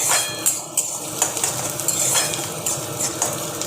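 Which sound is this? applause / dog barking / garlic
garlic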